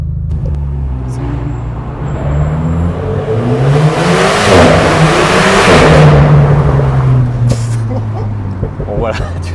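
An Alpine A110 Pure's exhaust drones and swells with a low, resonant engine note heard from inside the cabin, rising in the middle and easing off, with a brief clack near the end.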